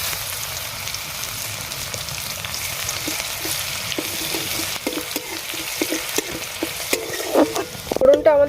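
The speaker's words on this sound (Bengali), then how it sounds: "ফোড়নটা আমাদের ভাজা ভাজা হয়ে গেছে" A tempering of crushed garlic with whole cumin and mustard seeds frying in oil for a coriander-leaf pickle, a steady close sizzle with scattered pops and crackles and occasional spoon scrapes toward the end.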